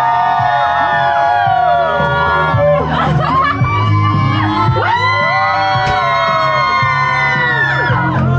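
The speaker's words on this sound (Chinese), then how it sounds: "大家，你们的欢呼在哪里？" Wedding guests at a night reception in Melaka cheering and whooping, a loud crowd of overlapping shouts and high whoops rising and falling continuously, with chatter mixed in.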